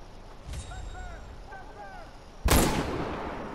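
Gunfire in the Far Cry 4 video game, aimed at a sniper: a single loud, sudden blast whose echo and rumble trail off, preceded by quieter game ambience with chirping birds.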